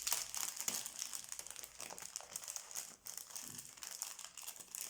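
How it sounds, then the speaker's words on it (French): A pretty paper pouch being opened, with continuous close crinkling and crumpling of paper throughout, soft but steady, with no talking. "j'ai une jolie pochette comme ceci, je vais ouvrir"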